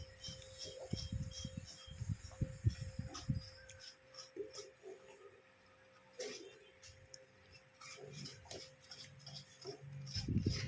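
Food is scraped with a hand scraper in a home kitchen, giving repeated rough rasping strokes in close, loud bursts at the start and end with quieter scraping in between.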